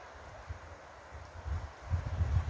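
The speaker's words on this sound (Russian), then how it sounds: "Ветер шумит в соснах." Soft, low wind rushes through a stand of pine trees at a quiet open spot, faint at first and then gusting a little stronger toward the end, with no engines or voices.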